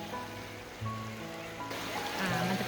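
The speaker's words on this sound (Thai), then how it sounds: "มันจะเป็นเหมือนลำธารเนาะ" Stream water flows at Bo Sai waterfall in Thailand, a steady close rush and trickle with tonal music or voices faintly mixed in.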